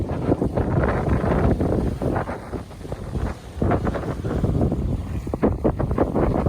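A sailboat runs under full sail on the open ocean, with strong wind buffeting the microphone and waves and water rushing against the hull in a loud, steady roar.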